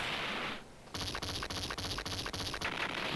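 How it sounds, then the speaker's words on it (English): Rapid rhythmic blasts and crackling explosions from the arcade shoot-'em-up DonPachi, a dense burst of repeated bangs after a brief dip, loud and continuous with no talking. "Love that explosion."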